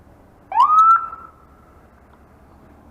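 An emergency vehicle siren gives one brief, loud upward whoop that holds for about half a second and then drops away against a quiet low background hum.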